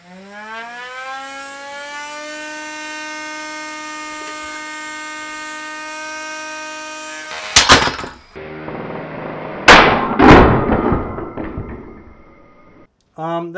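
Overclocked fan whirs with a rising tone that settles into a steady whine, then computer parts dropped into it bring loud clattering crashes and bangs as the fans break apart, ending in near silence.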